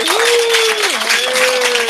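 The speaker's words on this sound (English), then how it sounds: "let's give a round of applause to Peru in the World Cup" Audience applause, a steady loud wash of clapping with a sustained tonal hum or voice running beneath it, close and continuous.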